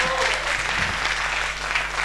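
An audience applauds steadily at a live music show, a dense, loud, continuous clatter of clapping heard up close that fills the whole moment.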